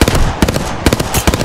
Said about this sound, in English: Is someone else shooting at them?